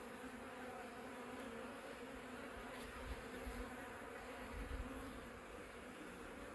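Honeybees crawl and hum on a drawn comb frame packed with nectar, giving a steady, low, quiet buzzing drone throughout with a few slightly louder swells.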